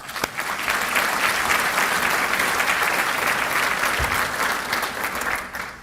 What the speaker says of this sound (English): give all of our sponsors a big round of applause